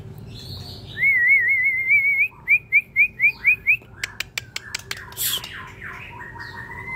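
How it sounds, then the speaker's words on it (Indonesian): A white-rumped shama sings loud, clear whistled phrases close by: a wavering trill, a row of rising whistles, then sharp chirps and squawks. "Ini murai batu saya"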